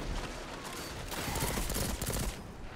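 Sustained machine gun fire in the Destiny 2 shooter, a dense continuous rattle of rapid shots at close range, filling the whole moment and fading slightly at the end.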